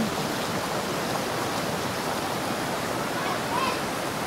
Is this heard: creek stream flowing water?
yes